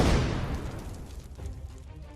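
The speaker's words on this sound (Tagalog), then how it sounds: "Kasunod niyo na yung malakas na pagsabog" A grenade explosion sound effect: a single heavy, close boom with a sharp burst at the onset, then a long rumbling decay that slowly fades over about two seconds, with no talking.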